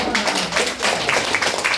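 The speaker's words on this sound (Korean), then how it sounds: "박수 한번 주셔야 돼요" Seminar audience members applaud together, a dense, steady patter of many hands clapping close by and fairly loud for the whole short stretch.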